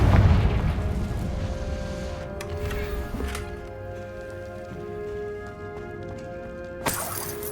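A Confringo spell explosion in the Hogwarts Legacy video game booms loudly at the start, then fades into a long ringing tail, with a smaller sharp impact near the end.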